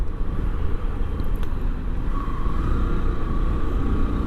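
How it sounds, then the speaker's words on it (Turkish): Steady low rumble of road traffic near a shopping centre, cars passing continuously at moderate volume, with a faint tonal engine whine rising partway through and no talk. "Ama trafik var."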